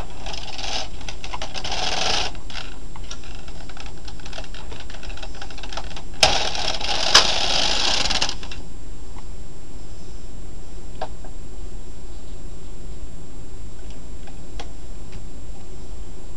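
Knitting needles clicking while a row is knitted on a cabled hat, soft rapid ticks close by, with a brief louder clatter near the middle and quieter steady clicking afterward.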